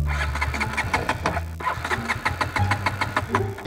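A KTM motorcycle engine cranks and catches, sputtering through uneven starting turns before settling into a rough, close idle.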